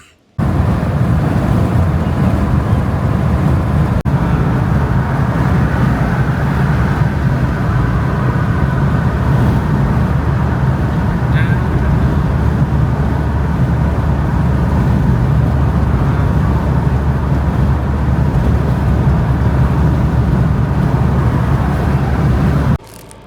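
A steady, loud road rumble and engine drone fill the cabin of a car on a Friday night drive toward Chicago's South Loop, unbroken and without speech for over twenty seconds.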